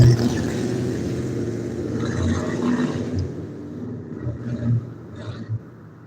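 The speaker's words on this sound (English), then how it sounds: "that old truck is loud" An old truck passes on a road at evening in Dalton, Georgia, a loud low rumbling engine that swells and then fades as it goes by, with no one talking.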